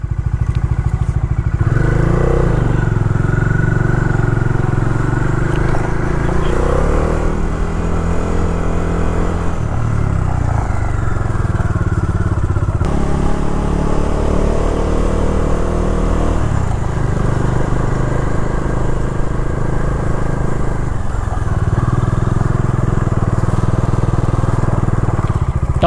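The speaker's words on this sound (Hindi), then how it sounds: "मेरी बाइक की तो ना ऐसी बैंड बज चुकी है, सारे नट वगैरह सब हिल रहे हैं" A motorcycle with loose, rattling nuts rides along a road in Nagaland, its engine droning loudly and steadily throughout while metallic clatter and thumps rise and fall with the revs.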